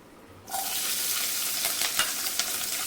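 Chopped green chillies drop into hot oil seasoned with asafoetida, bursting into a loud, close sizzle after a brief quiet start, then crackling steadily with sharper spits as they are stirred.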